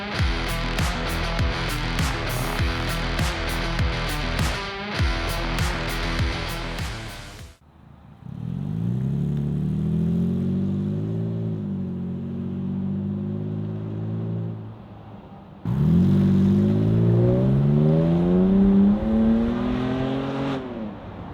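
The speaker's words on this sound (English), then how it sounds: "I'm gonna do the U pipe with the cap, see how that sounds." Toyota Tacoma with a MagnaFlow exhaust, U pipe with cap, resonator on a moderate setting: a steady loud idle drone, then two rising revs that climb and settle, the second stronger, with no talking.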